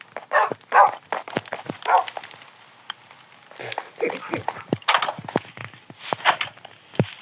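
Minecraft dogs bark in a quick irregular series of yips and bow-wows during survival play, loud and near, with a player's voice speaking between and over some barks.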